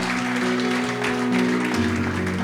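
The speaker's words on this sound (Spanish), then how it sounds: "Dale un fuerte aplauso al Rey." Church congregation clapping, a brief burst of applause over sustained organ or keyboard chords that fill the room.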